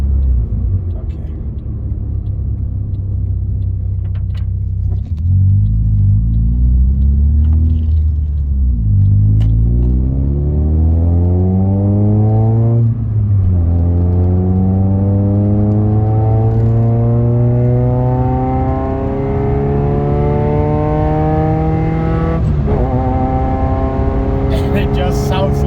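A small car's engine revs hard with a rally-car-like growl, its pitch climbing in repeated sweeps that drop and rise again, loud and close throughout.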